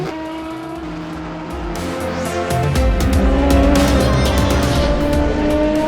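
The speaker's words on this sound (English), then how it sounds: "Here he goes, working his way past the Peugeot into turn 11, and Ross Gu" An Aston Martin Valkyrie hypercar races past a Peugeot into a turn. Its engine gives a loud, harmonic-rich roar that builds and swells, with a crackle and rising intensity toward the end.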